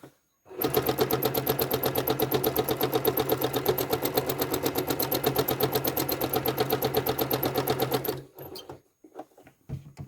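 A sewing machine runs at a fast, even pace stitching serpentine quilting lines, a loud rhythmic mechanical chatter that stops abruptly near the end, followed by a few faint handling clicks.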